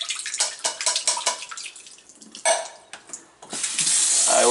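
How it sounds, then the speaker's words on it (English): Warm tap water runs steadily over canned garbanzo beans being rinsed in a sink, a close, splashy flow that shifts in intensity as the beans are moved under the stream and swells fuller toward the end. "I rinse it with warm water"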